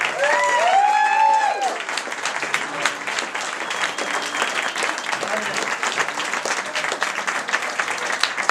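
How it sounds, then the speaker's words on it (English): Audience applause follows a call for one more round for Dara and Rahasha at a Lotus Guide event, a dense steady clapping that fills the whole stretch, with a few whoops and cheers rising at the start. "I'd like you to stir up one more great round of applause for Dara and Rahasha"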